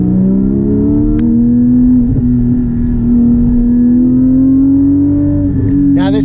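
A Porsche 718 GT4 with a manual gearbox and an aftermarket exhaust accelerates, its engine note rising steadily and loud from inside the car, ending in a short burst of sharp crackle.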